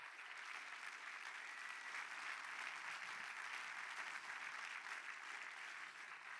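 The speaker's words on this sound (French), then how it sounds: "Un tonnerre d'applaudissements pour Charlotte Masini." Steady applause fills the hall at a festival opening ceremony, a broad even wash of many clapping hands heard from a distance and fairly faint, sustained throughout.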